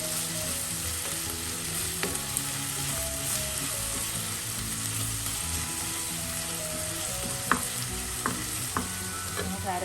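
Goat liver sizzles in oil in a pan while being mixed, a steady frying hiss overlaid by repeated scraping and clicking stirs, close and alone without speech.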